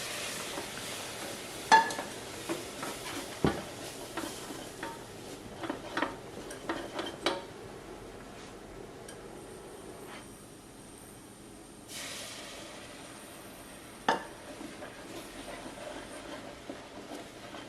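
A wooden spoon stirs roux in a pan as hot milk is added bit by bit, making quiet scraping and soft sizzling with scattered knocks against the pan, fairly faint throughout.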